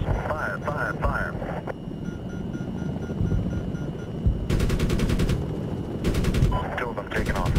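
Heavy automatic gunfire from an aircraft cannon in the video game Medal of Honor (2010), loud sustained bursts cutting in over a droning engine and radio-style voices talking.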